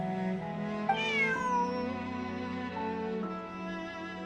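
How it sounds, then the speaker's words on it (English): A cat meows in the video game Genshin Impact, a drawn-out rising then falling call over soft background music, clear and close. "Bonnie is Pierre's cat"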